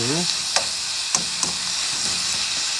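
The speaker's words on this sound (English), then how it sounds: "So get that all stirred up, mixed in really well together." A spatula stirs black pepper steak in a hot pan over steady sizzling, with a few sharp scraping clicks spaced through the short stretch and no talking.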